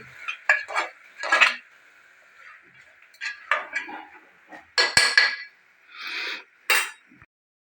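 Vegetable pulao with yogurt being stirred with a metal spoon in a pot, giving bursts of scraping and clinking with brief pauses between strokes, close and clear against a quiet steady hum.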